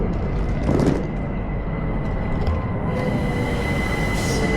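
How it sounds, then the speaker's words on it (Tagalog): A train passes at a station near Interlaken, Switzerland. It makes a steady low rumble with faint wheel noise that holds throughout, with no speech. "Narinig ko na yung tren."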